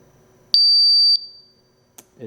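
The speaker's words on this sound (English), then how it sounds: "It'll beep, and now it's ready to function again." A portable gas detector for hydrogen sulfide sounds one steady, loud electronic tone lasting about half a second at the end of its startup countdown. A short click follows, then a faint voice.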